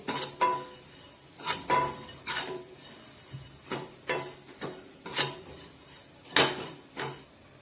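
A spoon scrapes and knocks against a cooking pot as spice masala for vegetable sambar is mixed, giving about a dozen sharp metallic clinks at an irregular, unhurried pace, close and fairly quiet, with no talk.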